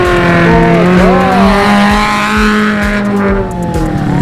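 An off-road jeep on an adventure ride at Coban Talun revs its engine loudly and close, rising and falling in pitch over a steady rumble, with no talking.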